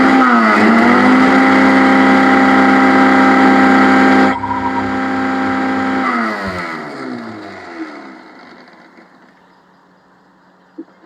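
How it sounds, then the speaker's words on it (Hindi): A kitchen mixer grinder grinds dried spice ingredients into powder, giving a loud, steady motor whine that cuts off partway through and then winds down and fades to quiet. "तो आपको मिक्सी की आवाज़ सुनाई दे रही होगी।"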